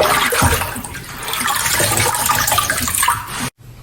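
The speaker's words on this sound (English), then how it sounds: "So give your lettuce a swirl. Make sure you get all the bugs and the dirt washed off." Lettuce being swirled in a basin of water to wash off bugs and dirt gives a steady, close sloshing and splashing wash of water that cuts off abruptly near the end.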